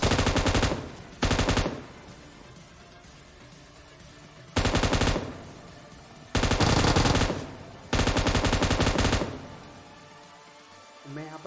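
Bursts of automatic gunfire in PUBG Mobile, four loud rapid rattling volleys of one to one and a half seconds each separated by quieter gaps, with soft background sounds between.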